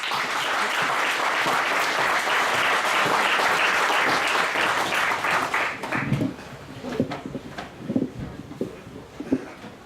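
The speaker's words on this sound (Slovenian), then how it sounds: "En aplavz." A party gathering in Domžales hall breaks into loud, dense applause for MEP Romana Tomc, holding strong for about six seconds before thinning into scattered claps and shuffling.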